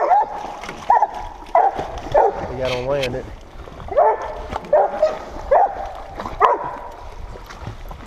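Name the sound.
hunting dogs barking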